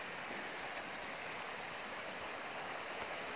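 A river runs steadily, giving a continuous broadband rush of flowing water that stays even and fairly faint throughout, with no voices.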